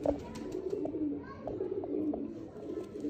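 Soft, low cooing of a female pigeon repeats steadily over a constant background hum, with a few faint chirps in between.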